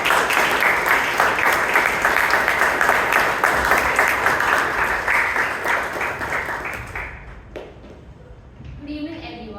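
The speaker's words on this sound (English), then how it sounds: "With big round of applause, please join me in welcoming Toastmaster Bhavana." Audience applause fills a Toastmasters club meeting in Bangalore, a dense, steady clapping crowd welcoming a speaker, loud and sustained for several seconds before tapering off and fading near the end.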